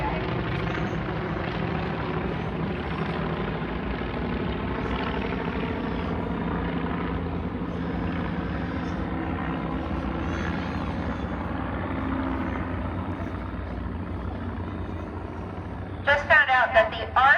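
Bücker and Great Lakes biplanes fly in formation at Old Rhinebeck, their propeller engines giving a continuous rumbling drone that stays fairly distant, while an announcer talks over the sound and a sharp burst of noise comes near the end.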